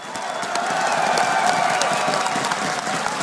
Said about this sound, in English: The crowd is phenomenal.